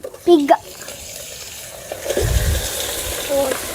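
Wild forest pig meat drops into a hot pan and starts a broad, hissing sizzle that swells midway and keeps crackling steadily, after a brief spoken voice at the start.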